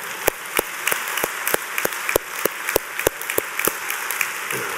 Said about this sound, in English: let's do another round of applause for these guys